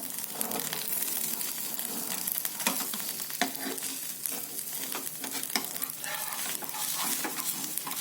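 Rava dosa (semolina crepe) sizzles on a griddle over a medium flame, a close, continuous crackling fry dotted with frequent small pops and scraping ticks. No one speaks.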